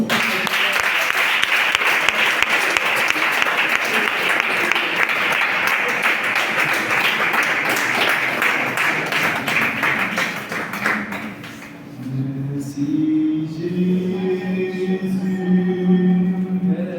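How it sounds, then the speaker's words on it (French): A congregation claps loudly and continuously during a praise-worship service for about eleven seconds. Then the clapping falls away, and a voice sings or calls out over sustained music. "Acclamons encore."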